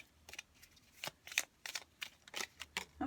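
Tarot cards being shuffled by hand, a run of soft riffling flutters and slaps coming in uneven bursts, close and fairly quiet with no talk.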